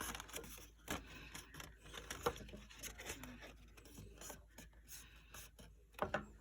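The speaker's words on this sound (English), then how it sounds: "we can take these flaps and we can fold them down" Paper card flaps on a fancy-fold pop-up box card being folded down by hand, giving soft close rubbing and creasing rasps with a few sharper crinkles, quiet and intermittent.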